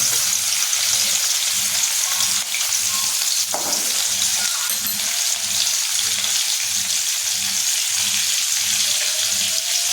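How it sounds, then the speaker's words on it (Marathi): Crushed green chilli and garlic sizzle hard in hot oil, a loud dense frying hiss held steady throughout, with a rhythmic low pulsing beneath and a brief clatter near the middle. "तेल तापलं की आपण जे मिरची आणि लसूण ठेचून ठेवले ते टाकायचं"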